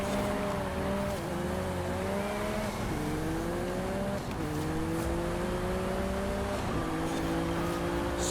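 A 2023 McLaren Artura supercar in Forza Horizon 5 drives past an older Bentley, its engine droning steadily with repeated rising pitch sweeps as it shifts up through gears, loud and continuous throughout.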